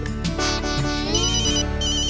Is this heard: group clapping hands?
no